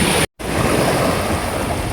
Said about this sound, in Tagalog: sobrang malakas po siya, malakas po ang hangin kaya hindi po makakalaot